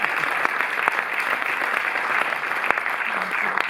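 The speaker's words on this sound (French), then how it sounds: "vous pouvez l'applaudir" A cinema audience at a Paris film premiere presentation applauds the producer, a dense, even wash of hand clapping from a full room with a few sharper claps standing out.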